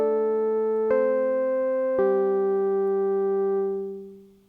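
Roland S-1 synthesizer playing a Rhodes electric piano patch with fairly high envelope settings: two sustained chords struck about a second apart, each ringing out with a long release before fading away, alone and close.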